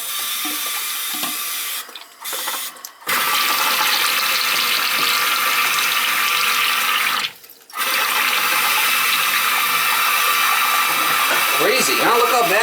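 Toilet tank refilling after being turned on, a loud continuous rush of running water with two brief pauses, close to the listener.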